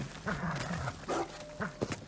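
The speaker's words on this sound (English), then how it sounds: "Another dog." A dog barks in the video game Ghost of Tsushima, three or four sharp, loud barks spaced in uneven bursts, with faint game ambience between them.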